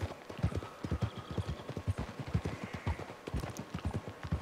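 Horse hooves clip-clop at a steady trot in Red Dead Redemption II, a quick, even run of close, clear hoof strikes that carries through the whole stretch with no talk over it.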